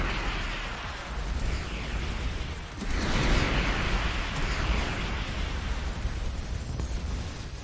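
Missile explosions in the space game Starcom: Unknown Space, a dense rumbling roar of overlapping blasts that swells around the middle and continues as a sustained crackling wash of noise.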